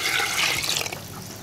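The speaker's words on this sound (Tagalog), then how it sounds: "Lalagyan po natin ng panibagong tubig" Fresh water pouring into a cooking pot for beef tail sinigang, a brief close, loud gushing splash that fades slightly, with no talking.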